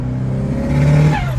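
A Mitsubishi Evo's engine revs briefly and loudly close by, rising in pitch over a steady rumbling drone.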